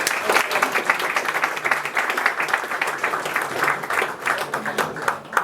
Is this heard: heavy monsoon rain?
no